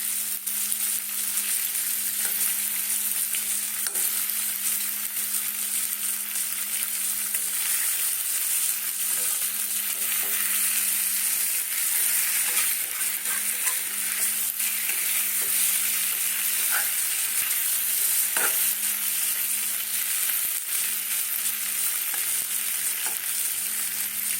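Paneer frying in a pan for butter paneer, a steady dense hiss of oil sizzling that stays even and close throughout, with a few faint stirring scrapes and no voices.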